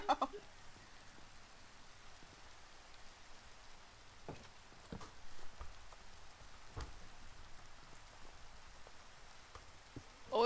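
Faint, soft rain patters steadily in a video game, with a few scattered clicks and taps. No one speaks.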